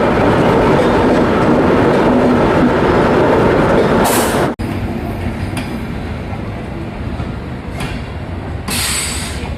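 An Indian Railways WAP7 electric locomotive from Pune hauls the Mumbai Mail past, a loud, close, continuous roar of wheels and rail clatter with a brief sharp break partway through.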